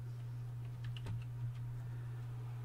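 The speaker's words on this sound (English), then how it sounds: "I'm going to type in CMD." Quick keystrokes on a computer keyboard while typing a short command into a Windows 11 taskbar search, a few light close clicks over a steady low hum.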